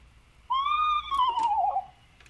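A small owl's recorded whinny call, a single loud, wavering, descending horse-like trill lasting about a second and a half, plays alone against a quiet background.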